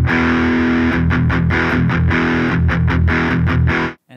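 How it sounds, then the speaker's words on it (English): An electric guitar with overdrive plays a loud, chugging, palm-muted metal riff with sustained saturated chords and rhythmic stops, close and alone, ending abruptly. "So here's what overdrive sounds like."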